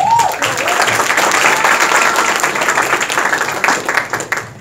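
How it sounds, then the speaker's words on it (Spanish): An audience at an effective-presentation seminar gives loud, dense applause that runs steadily for several seconds, then thins into scattered claps near the end. "Unas fuertes palmas por ellos"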